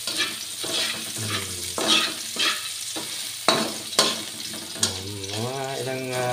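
Ginger sautéing in a hot pan for chicken tinola, a steady close sizzle with repeated scraping stirs and brief clinks, while a voice talks intermittently over it.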